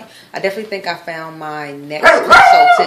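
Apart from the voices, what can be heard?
dog barking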